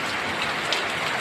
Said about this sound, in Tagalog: Nakikita niyo po ba ang ulan?